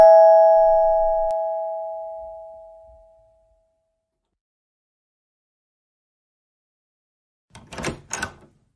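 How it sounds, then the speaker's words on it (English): A doorbell chimes once with a ringing tone that slowly fades over about three seconds, then after a long silence two quick clattering knocks or rattles sound close by. "I don't know who rings the doorbell in front of my house"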